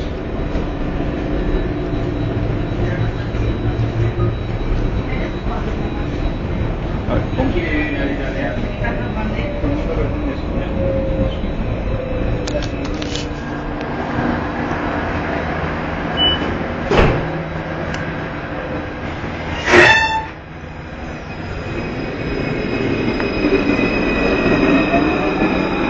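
Barcelona metro line 3 train running loud and close, a steady rolling rumble with wheel squeals and sharp clanks near the end; faint talk in the background.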